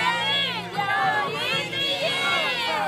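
Children and parents cheering together at a kindergarten sports meet, a loud, continuous crowd chant with rising and falling shouts, with bright voices layered over a steady low hum.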